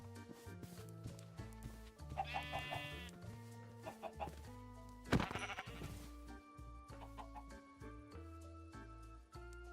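Sheep bleat and chickens cluck among farm animals in a Minecraft survival world, heard through loud, steady in-game music with no one talking.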